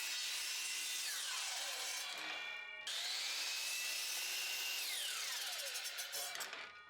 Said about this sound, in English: lined up my miter saw in the cut line, and finished cutting those ends off